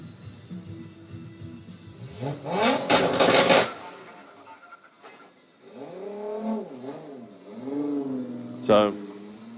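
Drift car on Ebisu Circuit West Course in Fukushima, its smoking engine revving roughly in rising and falling surges during qualifying, heard from a distance while a commentator talks throughout.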